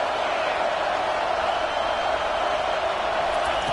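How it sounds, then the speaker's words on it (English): Stadium crowd roaring during a College Football 25 video game match against Michigan, a dense, continuous wall of massed voices holding steady throughout without breaks. "Third down, and this crowd is tearing the lid off this place."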